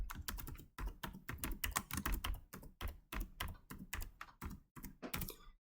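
Fast, close typing on a computer keyboard: dense runs of crisp key clicks broken by brief pauses, with no voice.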